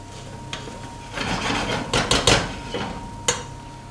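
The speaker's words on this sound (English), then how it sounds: "Just give it a little stir here." A spoon stirs spices being toasted in a cooking pot, giving soft scraping and rubbing strokes with a few sharper clinks, moderately close and with no talking.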